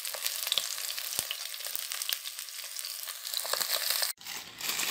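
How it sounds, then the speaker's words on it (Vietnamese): Fish fries in a pan of hot oil, a close, dense crackling sizzle with sharp pops, briefly cut out near the end before resuming. "Để cá mình chiên vậy là được rồi cô chú anh chị các bạn nhé."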